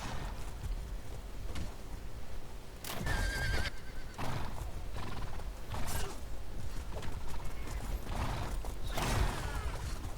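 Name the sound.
horse galloping in a video game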